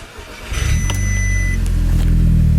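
Audi S3 with a Miltech exhaust started from cold: a short whirring crank catches into a loud, close idle that settles into a steady deep rumble.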